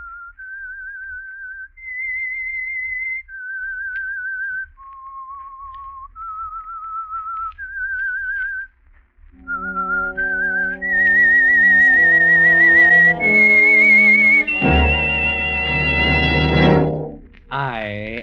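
A person whistles a slow, wavering tune, clear and close, joined midway by an orchestral swell that builds to a loud finish, opening the 1947 radio drama The Whistler.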